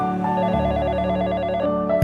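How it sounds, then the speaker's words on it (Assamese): A phone ringtone for an incoming call plays as a steady melodic tune, loud and close with no talking, in a spoken love-story narration. "তাই মোক এদিন ফোন কৰিলে"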